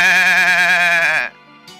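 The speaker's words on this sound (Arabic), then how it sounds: "Goat." A goat gives a single long, loud quavering bleat with strong vibrato, ending abruptly into near silence.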